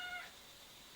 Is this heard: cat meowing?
yes